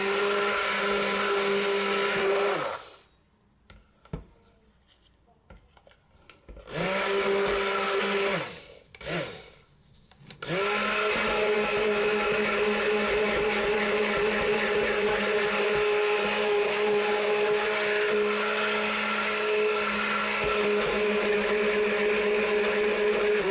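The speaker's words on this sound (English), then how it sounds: "wonder if I should use a different blender." A blender whirs loudly while vegan leather soap is being made. Its steady motor drone cuts out twice, once for a few seconds and then briefly, before running on continuously to the end.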